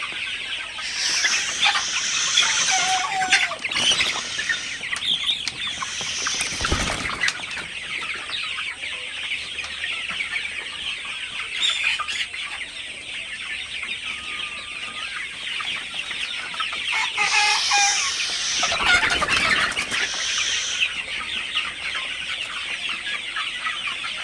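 Sonali super hybrid chickens, about fifty days old, cluck and chatter continuously in a poultry farm shed at evening, a dense steady flock sound with a few louder bursts.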